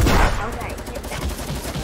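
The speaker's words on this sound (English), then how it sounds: "Now I gotta work with the combat shotgun." Combat shotgun fire in Fortnite: a loud blast opens, followed by a dense rattle of gunfire and game effects.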